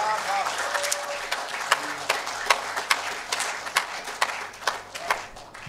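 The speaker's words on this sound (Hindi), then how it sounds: "ज़ोरदार ताली से स्वागत किया जाए उसका।" Applause welcoming a poet at a shayari reading: scattered, distinct claps with a few sharper peaks over a low murmur, fairly light rather than a full roar.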